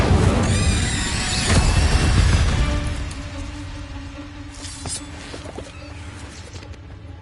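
An Incendio fire spell and blasts in Hogwarts Legacy: a loud, roaring burst of flame with crackling sweeps for about three seconds, then fading to a quieter hum with faint crackles and small pops.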